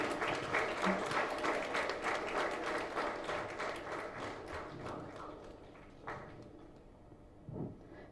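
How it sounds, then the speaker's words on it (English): An audience at a Young Scientist India event in an indoor hall applauds, the dense clapping slowly thinning and fading to a few scattered claps. "the future Abdul Kalam, so a good round of applause can be done."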